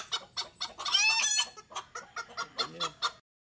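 Several chickens cluck and squawk in quick, overlapping bursts close by, with a brief rooster-like call in the middle; no talking.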